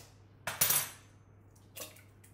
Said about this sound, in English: I'm going to crack it onto my bowl using Mrs. Dyett's tip of tapping it with the edge